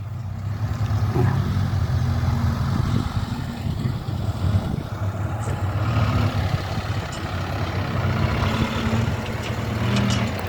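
Heavy diesel engines of a Kobelco SK200 excavator, dump trucks and a tractor filling and levelling farmland, a steady loud low rumble and idle throughout with no talk.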